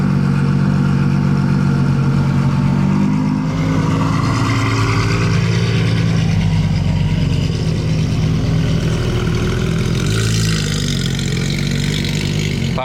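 Loud, close exhaust roar from supercars, a V12 Spider and a Porsche GT3 RS, rumbling and revving continuously in a street setting with a shifting throttle note throughout.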